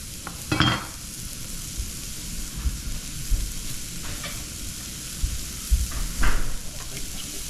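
Shallot and garlic crackle in a very hot pan, a continuous sizzle with scraping stirs and a couple of louder bursts as the pieces are moved around.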